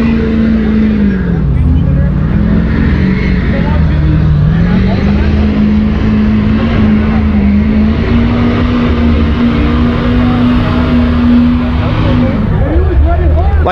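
A pickup truck strains to pull a weighted sled along a sandy track on mild mud-and-snow tires, its engine droning loud and close with a steady, slowly shifting pitch.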